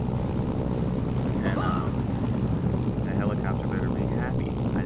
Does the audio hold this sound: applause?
no